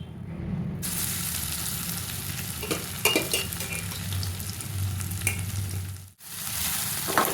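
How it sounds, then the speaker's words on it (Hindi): Marinated okra (bhindi) fries in a pan with a loud, close, continuous sizzle, with scraping stirs and a few clinks of a spoon against the pan, and a brief pause near the end before the hiss resumes. "बहुत अच्छे से भिंडी मैरिनेट हो चुकी है तो अब हम इसमें उसको फ्राई करते हैं।"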